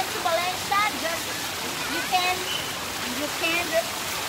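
Cold mountain river water rushes and splashes steadily close by in Valencia, with a person talking over the continuous flow.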